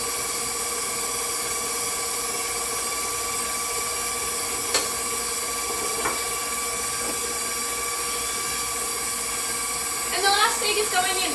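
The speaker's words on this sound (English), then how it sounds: "So I'm using a stand mixer, but you could also do it with like a whisk in a bowl." A stand mixer beats eggs into carrot cake batter, giving off a steady, even motor whine that runs unbroken throughout, with a few light clinks and rattles near the end.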